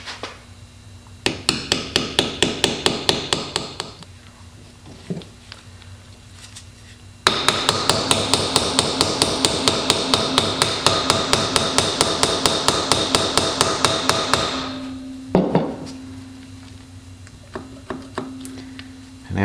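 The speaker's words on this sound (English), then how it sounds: "If you're careful about it, you can use a hammer." Rapid metallic hammer taps in long bursts, close and sharp, tapping a part into a D-Type overdrive being rebuilt, pausing between runs, one steady stretch lasting several seconds.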